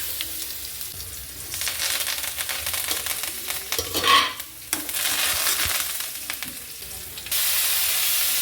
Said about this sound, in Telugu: కరివేపాకు వేసుకోవాలి.